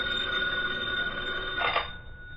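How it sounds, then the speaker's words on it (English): Old-time radio drama telephone bell effect ringing steadily and close, one continuous ring that cuts off near the end, with no talking. "It was a little more than an hour later when Britt Reed received another phone call."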